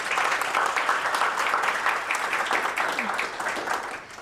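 An awards-ceremony audience gives a steady round of applause for award finalists, many hands clapping evenly throughout at moderate volume, fading slightly toward the end.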